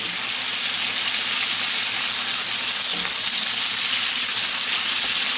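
Tomato fries in a pan with a loud, continuous, close sizzle that stays steady throughout, with no voices.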